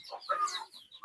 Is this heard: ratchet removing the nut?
no